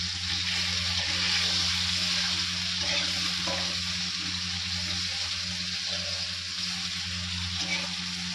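Food fries in a pan with a steady, continuous sizzle that stays fairly even and close throughout, without any talking.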